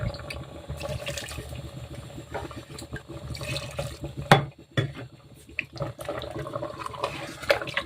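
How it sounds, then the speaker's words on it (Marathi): Hot water poured from a vessel into a thick wheat mixture for kurdai, a continuous close splashing and trickling with occasional clinks of utensils. "आता मी याच्यात पाणी टाकणार आहे अजून जे आपण गरम पाणी केलं अगोदर तेच टाकायचं आहे"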